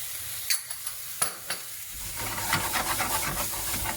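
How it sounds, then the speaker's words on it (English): Spices and vegetables frying gently in a pan for a vegan spicy bean burger, giving a soft steady sizzle and hiss that builds after a few faint clinks and stirring taps, with no talking. "I'm just going to let that gently fry off without any colour"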